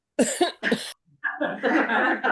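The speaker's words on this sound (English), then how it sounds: "I have to cough anyways" Two sharp coughs in quick succession from a participant at a city council meeting, close and clear, followed by a person starting to speak.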